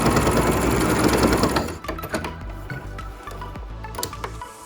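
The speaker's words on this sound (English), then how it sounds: "we're just gonna sew the parts, the nose parts together. You're gonna wanna back stitch in this area" A sewing machine stitches the nose seam of a fabric face mask, with a dense, fast whirring run that cuts off into slower bursts of stitching and back-stitching, close and loud.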